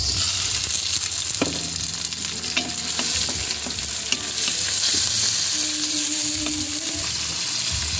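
Tomatoes hit a hot frying pan for balbacua, giving a steady close sizzle with stirring scrapes and clinks throughout.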